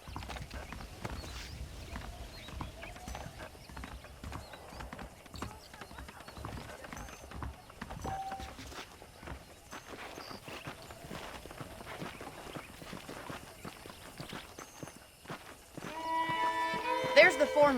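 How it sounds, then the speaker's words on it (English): Horse hooves clip-clopping on the ground in the Red Dead Redemption video game, a steady walking rhythm of hoofbeats that runs throughout under talking voices, with a louder swell near the end. "The horses are saddled up over here."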